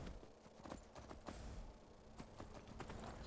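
Horse hooves clip-clop in the video game Skyrim Dawnguard, a steady trotting rhythm of sharp, close hoof strikes over a faint background wash, with no talk.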